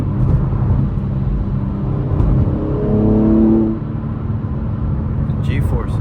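A BMW M3 G80 engine rumbles under steady road noise while cruising through the city at night, rising into a brief acceleration surge before dropping back, with a voice talking over it.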